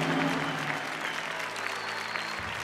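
Studio audience applauds at a Bhojpuri television quiz show, a dense steady burst of clapping that fills the stretch and holds at an even level, with a low musical tone sounding underneath.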